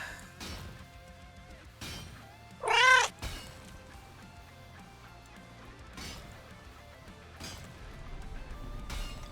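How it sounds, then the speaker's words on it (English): A pet cat lets out a single short, clear meow close by, set against a quiet room with occasional dull knocks and thumps. "has been being an awfully cute kitty lately"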